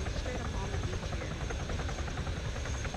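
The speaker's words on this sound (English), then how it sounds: "If my helicopter would get on the ground." A helicopter in the combat game Arma hovers near a beach, its rotor and engine making a steady, loud, continuous drone across the whole stretch with no break.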